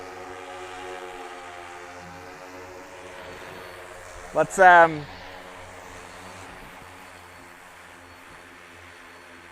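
A crop spraying drone hums steadily throughout, with a short louder burst of rising tonal whine midway as it lands; a voice speaks briefly near the start.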